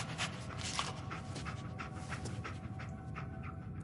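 Dog panting rapidly in the video game Fallout 4, a close, steady breathy rhythm with faint sniffs mixed in over a low background bed.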